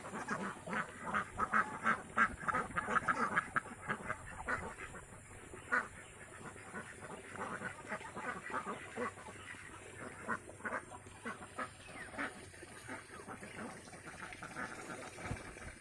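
Pekin ducks quack repeatedly in a busy, overlapping flock by a rice paddy, moderately close, with some talking mixed in and a faint steady hiss behind.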